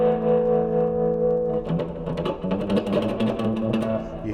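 An electric guitar played through a Strymon Flint vibrato pedal, sustaining a wavering chord and then moving into a run of picked notes with a pulsing, warbling tone, heard alone.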